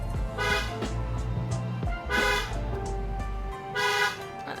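A car horn honks in three long blasts on the winding Road to Hana in Maui, loud and close, with engine rumble continuing underneath between the toots.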